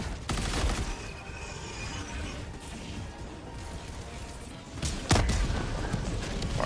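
A grenade explodes amid combat in Helldivers 2, a sharp broadband blast near the five-second mark standing out over continuous gunfire and battle noise.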